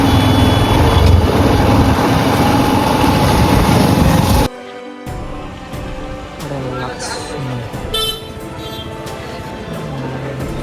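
Heavy vehicles rumble through a crowded weekly village market in Karad, a dense loud engine roar that cuts off abruptly midway, followed by lighter traffic with engine hum, faint beeps and voices talking.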